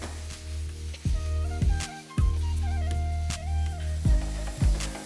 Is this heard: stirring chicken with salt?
yes